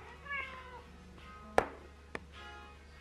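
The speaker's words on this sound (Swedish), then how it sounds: "han är en katt som älskar godis" A cat that loves treats meows a few times in a quiet indoor setting, with a couple of short drawn-out calls near the start, then a sharp knock and a softer thud before another faint meow.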